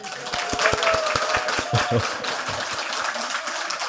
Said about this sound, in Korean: 우리 환영의 박수 한번 할까요?